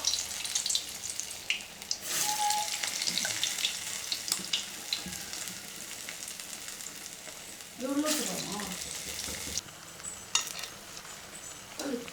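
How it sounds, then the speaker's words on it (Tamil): A pot of rice boils hard, bubbling and spluttering up close with a wet, sizzling churn, occasional scraping bursts and a few louder surges partway through. "சோறு டர டர டரன்னு சத்தம் கேட்குது."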